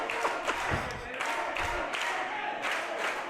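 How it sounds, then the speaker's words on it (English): A wrestling crowd at a Houston show applauds and cheers as a wrestler returns, a dense, steady wash of clapping and shouting with a few sharper thuds. "Listen to the crowd welcoming back Tempo, a Levelland, Texas native."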